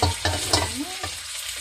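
Pork ribs frying in oil for butter garlic ribs, with a brief burst of stirring and sizzling close by, a few clattering scrapes and then a steady hiss.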